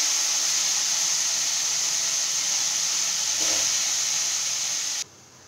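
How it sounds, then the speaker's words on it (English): Ingredients for upma roasting in a pan until browned make a continuous close sizzle and hiss, a faint scrape near the middle, then cut off abruptly before the end. "roast it, fry it till it gets color"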